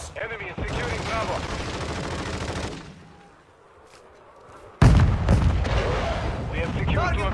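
An artillery strike called in during a military video game: a long roar of barrage fire, a brief lull, then a sudden heavy blast followed by more sustained rumbling fire.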